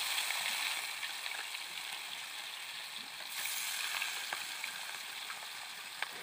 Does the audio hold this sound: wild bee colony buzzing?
no